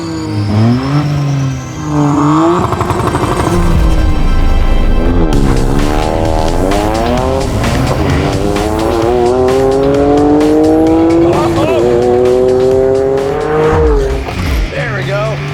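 Toyota GR Corolla and GR Yaris accelerating hard side by side, loud engine revving rising in pitch through the gears with shift breaks, close and continuous, with a person talking over it.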